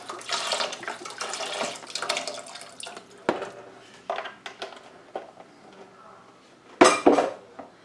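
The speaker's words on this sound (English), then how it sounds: "we are going to add 32 ounces of veggie broth" Clinking pot and utensil sounds with a liquid splash as 32 ounces of veggie broth is poured into a soup pot over sweating peppers, onions and garlic for a vegan fall soup; a sharp clatter near the end.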